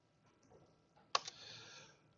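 A few soft clicks of typing on a computer keyboard, very faint and brief, in an otherwise quiet room.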